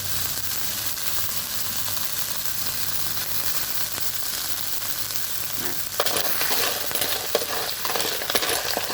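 Food stir-fried in a pan over a wood fire, a steady hiss and sizzle with stirring scrapes that grow louder and busier toward the end.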